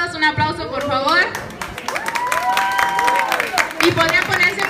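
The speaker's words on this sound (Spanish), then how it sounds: "un aplauso por favor" An audience applauds and cheers at a Japanese anime and cosplay event, with clapping scattered under music and an amplified voice talking over it.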